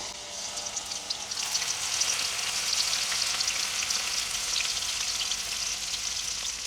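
Cauliflower pieces frying in very hot oil give a steady, dense crackle and sizzle that rises and holds for several seconds, close and moderately loud, with no voices.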